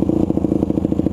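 A 2001 Yamaha WR250F supermoto idles close by. Its single-cylinder engine chugs in a quick, even pulse that rises and dips slightly as the idle surges.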